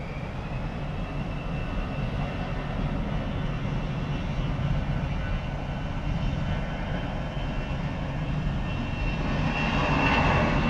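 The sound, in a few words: LATAM jet airliner engines on runway at Miami Airport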